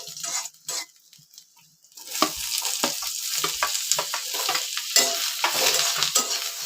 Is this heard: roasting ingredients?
yes